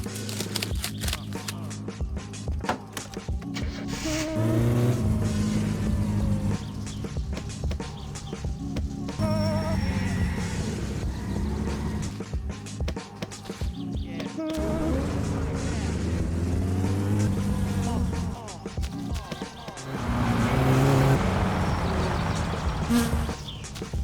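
A car in the video game My Summer Car drones steadily along a highway, its engine note rising and falling in pitch through gear changes, loud and continuous with brief dips.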